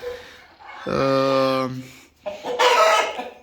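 Blue Brahma chickens and a rooster close by: soft clucking gives way to a loud, drawn-out call, then a burst of harsher squawking after a short pause.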